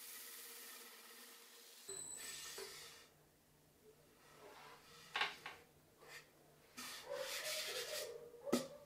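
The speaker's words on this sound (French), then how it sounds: "avec cette gouge de ponçage, qui tourne sur elle-même, j'enlève les marques de l'abrasif" A rotary sanding gouge spins against wood while removing abrasive marks on a retro lamp, giving soft intermittent rubbing and scraping passes with brief louder strokes, close and quiet over a faint background hum.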